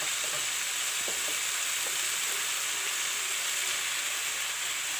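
Chopped tomatoes hitting hot oil in a curry pan of drumstick, cauliflower and potato, giving a loud, continuous hissing sizzle that stays even from start to finish, with no voices.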